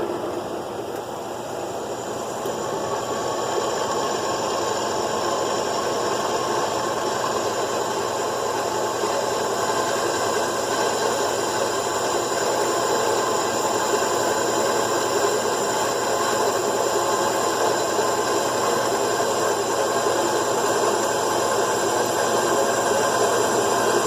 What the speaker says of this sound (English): we're going to go to the vise, or drill press vise, and we are going to start drilling